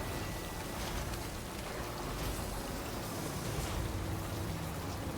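Steady rain in the Death Stranding video game, a continuous, soft hiss of falling drops spread evenly throughout with no talk.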